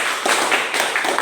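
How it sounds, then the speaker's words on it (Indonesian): A classroom group claps together after a presentation, a short burst of dense, steady hand claps heard up close with no talking over it. "mari kita tepuk tangan untuk kelompok"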